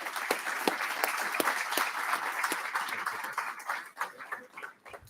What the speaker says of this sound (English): that in itself deserves a nice round of applause there